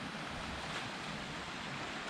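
Sea waves wash steadily at a bay in Cyprus, a soft continuous surf roar with some wind, heard from a distance with no voices.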